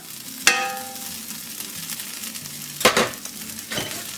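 Garlic and flour sizzle steadily in a pan for shepherd's pie, with sharp stirring scrapes and utensil knocks at a few points over the continuous frying hiss.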